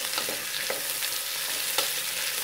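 Onion with red and green bell peppers sautés in a pan for semolina kichadi biryani. A steady, close sizzle runs throughout, broken by a few soft scraping stirs.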